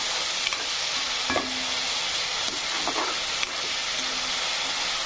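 Ginger, coriander, garlic and onion frying in a pan, a steady close sizzle and hiss with a few brief stirring clatters, no voices.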